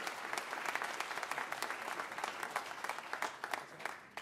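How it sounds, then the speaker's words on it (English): Audience claps at a sports hall of fame ceremony, dense rapid hand clapping that runs evenly for a few seconds and tapers slightly at the end, moderately loud with no speech. "so we could give you a clap"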